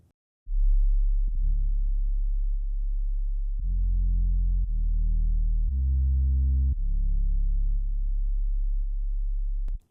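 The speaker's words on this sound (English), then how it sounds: "We have a very just like straightforward sine wave bass." Plain sine-wave bass in an electronic music track, a deep steady tone that steps between held notes with no other instruments, playing continuously and alone.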